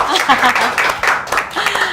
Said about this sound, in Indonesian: kita berikan tepuk tangan lagi juga